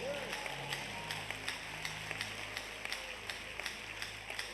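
A church congregation at an Abuja Sunday service clapping in a steady, even rhythm, the claps soft and slightly distant beneath a continuous voice.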